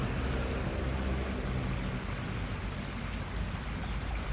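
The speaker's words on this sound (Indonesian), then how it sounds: "Ombak datang." Waves surge along the Balian River in Bali, a steady broadband wash of rushing, churning water heard up close and continuous, with no voices over it.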